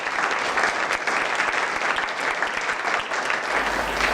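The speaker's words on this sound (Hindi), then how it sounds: "आप लोगों की तालियों की गूंज में" An audience at a school annual result function bursts into steady, dense applause that continues evenly throughout, many hands clapping together in a large gathering with no voices rising above it.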